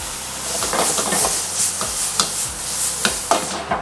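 Thinly sliced chicken breast fries in a hot pan with a steady, dense sizzle, broken by repeated scrapes and clinks of stirring that come through clearly throughout.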